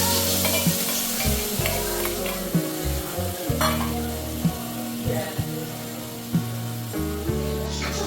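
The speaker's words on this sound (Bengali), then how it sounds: "তারপর এবার মশলা কষে আলুর দমটা বানাবো" Ginger, ground coriander and cumin are fried and stirred in a pan for Bengali aloo dum potato curry, with loud, close sizzling and repeated scraping strokes of the spatula.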